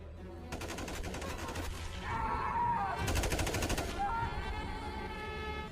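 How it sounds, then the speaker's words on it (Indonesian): Soldiers in an Iranian sniper film open fire at a border crossing: dense bursts of rapid automatic gunfire, loud and continuous, with brief lulls between volleys over a steady background roar. "perwira penjaga menyuruh anak buahnya untuk menembak Hasan hingga tewas."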